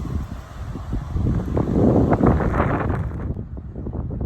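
Wind buffets a microphone outdoors at a model rocket launch site, a steady low rumble of gusts that swells and then eases.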